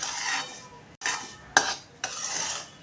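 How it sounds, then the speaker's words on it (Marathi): Semolina roasts in a pan while a spoon stirs it, producing about four distinct scraping sweeps with short pauses between, close and moderately quiet. "हा रवा आता आपण थोडा वेळ भाजून घेऊया"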